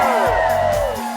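Crowd at an outdoor Inflate & Donate charity event for Go Joe 27 cheering and whooping, a steady loud wash of many voices with a few higher yells rising over it.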